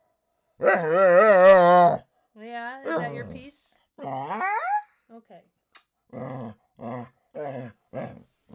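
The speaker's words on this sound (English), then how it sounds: "That's the dog." A dog growls, whines and howls in long drawn-out vocal bursts close by, while someone speaks briefly in between.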